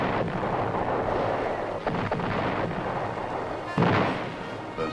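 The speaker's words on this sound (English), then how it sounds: "The North Vietnamese launch a massive artillery attack." A massive North Vietnamese artillery barrage at Khe Sanh rumbles continuously as a dense, loud roar, with a few distinct booming blasts standing out from the constant wash of noise.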